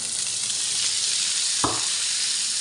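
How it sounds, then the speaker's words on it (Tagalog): Bacon fries in a pan as carrots are added, giving a steady, bright sizzle throughout with one sharp clatter midway, no voices. "pagluto na nga po yung bacon, ilalagay ko na po yung carrots"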